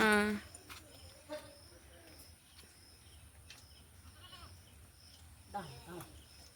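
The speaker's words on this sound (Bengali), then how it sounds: "যাওয়ার পরে ছাগলগুলো ডাকছে" Goats bleat at a rural home in Bangladesh, one loud cry at the start and another fainter call near the end, with quiet background noise and scattered bird chirps in between.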